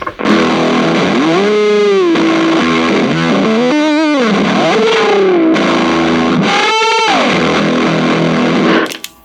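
Heavily distorted electric guitar, an Epiphone Sheraton Stealth, plays with wide, warbling string bends that swoop up and down, loud and continuous before cutting off abruptly.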